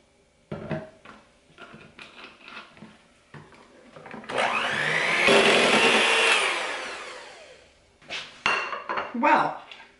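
Electric mixer whirring through cream puff filling with powdered sugar and vanilla, a steady buzzing run of a couple of seconds framed by clinks of bowls and utensils and a voice speaking.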